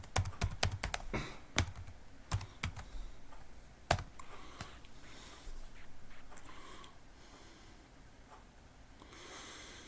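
Quick, uneven bursts of computer keyboard typing, near and crisp, with scattered clicks and a few sharper key strikes, thinning out into quiet room noise toward the end.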